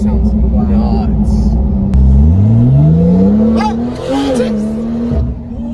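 A modified Porsche 911 Turbo S with a tuned exhaust and over 800 horsepower roars close up, revving hard and pulling through rising gear sweeps with loud rumbling, while people talk inside the car.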